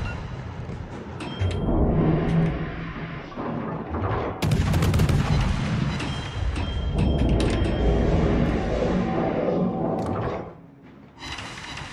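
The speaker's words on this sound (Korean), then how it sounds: "나 전탄 사격 할 거야." Warship main batteries fire a full salvo in the naval combat game World of Warships, a series of loud, heavy booming blasts with rumbling echoes over several seconds, then a quieter tail.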